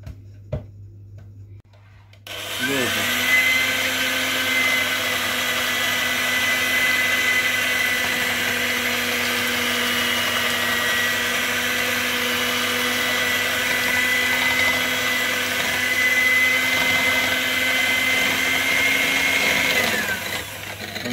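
An electric mixer beating eggs in a bowl, starting up after a brief quiet moment and then whirring steadily for a long stretch with a constant motor hum and rattle, close and loud.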